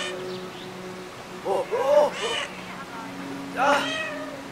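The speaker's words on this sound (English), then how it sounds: "is the same make kitty purr move" A cat in the video game Brothers: A Tale of Two Sons gives two short, close meow-like calls around the middle and end, over a steady low game hum.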